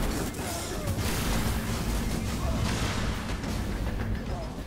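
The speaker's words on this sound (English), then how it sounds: "Sat there and shot my dead body like 3 more times afterwards." Continuous heavy gunfire and booming blasts in Destiny, a dense, loud barrage that stays steady throughout with no pauses.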